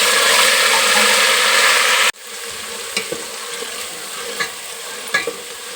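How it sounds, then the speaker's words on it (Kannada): Masala with crushed garlic and curry leaves frying in hot oil for village-style sambar: a loud, dense sizzle that abruptly drops to a quieter steady crackle, with a few sharp pops and stirring clinks. "ಸ್ವಲ್ಪ ಮಸಾಲೆ ಎಣ್ಣೆಗೆ ಉರಿಬೇಕಿದೆ"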